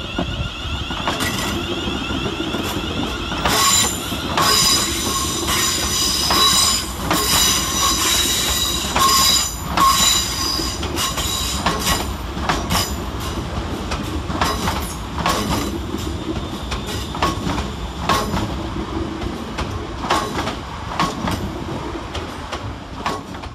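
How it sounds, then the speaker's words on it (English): Two coupled Class 350 electric multiple units on a London Northwestern Railway service pull out of Wolverhampton station, wheels squealing and rails clicking in rhythmic clusters, loud and close over a steady rolling rumble. "we see the departure of 350-108 and 350-114, with the 1157 London Northwestern Railway service from Liverpool Lime Street"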